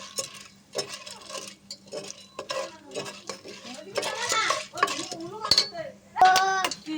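Popcorn kernels being stirred with oil and chili powder in a pan, giving intermittent scraping and clinking strokes of a utensil against metal, fairly close, with some faint background sound between strokes.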